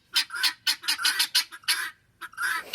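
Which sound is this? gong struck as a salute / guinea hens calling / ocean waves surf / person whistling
guinea hens calling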